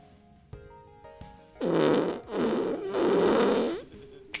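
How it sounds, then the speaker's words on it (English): A person farts directly into a microphone, several loud, sustained rasping bursts back to back, close and dominant, after a few quieter incidental noises. "I heard a fart."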